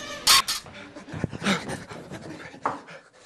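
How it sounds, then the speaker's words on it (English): Heavy, rapid panting breaths, rough and dog-like, come in a few close, loud bursts with short pauses between them. "Why are you breathing like a dog?"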